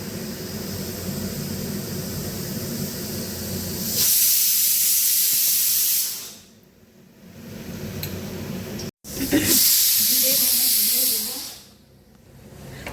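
A pressure cooker on a home kitchen stove lets off two long, loud, close hissing steam whistles, each lasting about two to three seconds, with a short quieter gap between them.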